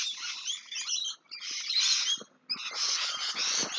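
Several small birds chirp and tweet close by in a garden with grapevines, a busy, continuous chatter in overlapping bursts with two brief lulls.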